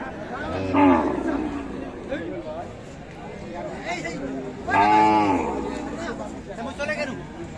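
A Sahiwal cow moos twice at a rural cattle market, two loud drawn-out calls a few seconds apart over steady crowd chatter and people talking nearby.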